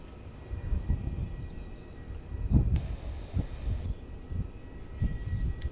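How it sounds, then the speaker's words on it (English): A Scoot Boeing 787-9 from Changi arrives at Melbourne Airport, a low, rumbling engine roar heard from a distance with gusty wind buffeting over it. "We've got Scoot coming in from Changi."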